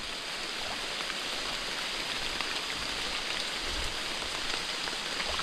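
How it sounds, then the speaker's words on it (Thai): Rain falls steadily outdoors as an even, close hiss of many drops on surfaces, continuous and unbroken, with no talking. "ฝนหน่อยเดียวนึงอันนี้"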